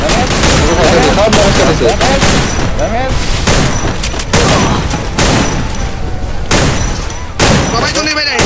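Loud, dense gunfire in a video game shooter match, with rapid bursts and repeated volleys filling the whole stretch while a voice talks over the shooting.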